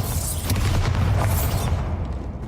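A Bombarda spell explosion in Hogwarts Legacy, a loud, heavy boom that swells with sustained low rumble and crackling debris, fading over a couple of seconds.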